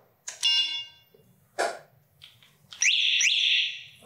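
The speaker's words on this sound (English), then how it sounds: "how to bypass the alarm system or modify the alarm system on the Sondors Metacycle" Electronic alarm on a Sondors Metacycle electric motorcycle sounds in loud, close bursts: a short warbling chirp, a brief blip, then a sustained steady high-pitched tone lasting over a second, with no talking.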